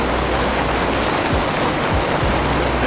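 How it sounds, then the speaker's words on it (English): Heavy autumn rain falls in Paris near the Louvre, a close, constant broadband hiss and patter with no talk over it. "It's raining so much."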